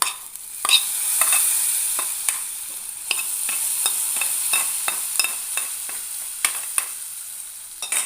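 A chili powder mixture goes into a simmering Kerala-style prawn curry, raising a steady sizzling hiss. Scattered spoon clicks and scrapes come close and clear, with no talking.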